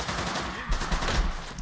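Gunfire in the Men of War video game, a short stretch of muffled rapid shots and low thuds at moderate distance, fairly faint.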